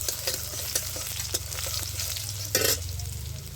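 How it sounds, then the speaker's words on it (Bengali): Crushed garlic hits hot oil that already holds dry chilli, bay leaf and five-spice, giving a steady close-up sizzle with a few stirring scrapes and one brief louder crackle. "তো রসুনগুলো আমি থেঁতা করে দিয়ে দিচ্ছি।"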